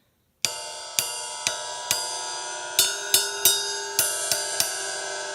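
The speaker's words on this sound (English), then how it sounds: "And then you got finally your ride cymbal." A ride cymbal on a drum kit struck about ten times in an uneven rhythm, each ping ringing and overlapping into a sustained shimmer, close and clear with no talking.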